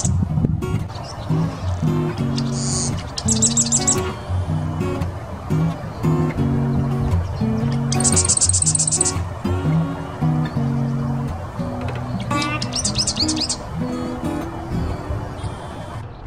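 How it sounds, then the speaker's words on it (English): Marsh wren calling in a morning marsh: bursts of rapid, buzzy, rattling song recur every few seconds over a dense, steady bed of low hum and background marsh noise. "That took about 20 seconds or so for that marsh wren to show up."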